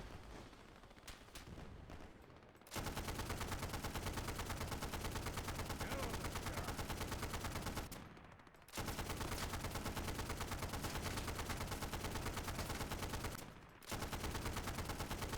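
A 20mm flak gun fires in Easy Red 2, loud, dense, continuous rapid bursts that run for several seconds, with short pauses between them.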